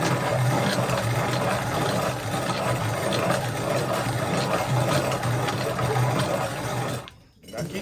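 A hand-cranked corn sheller strips dried ears of corn in a steady, rattling, continuous churn, close and fairly loud, cutting out abruptly near the end.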